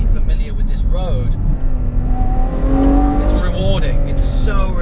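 A Ferrari 812 Superfast engine revs loud and close while climbing tight mountain-road switchbacks, the pitch rising and falling through gear changes as a voice talks over it.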